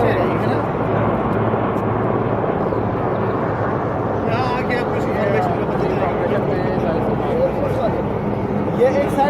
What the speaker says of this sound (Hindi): वो बहुत जदीद हेलीकॉप्टर है, वो जो आ रहे हैं ना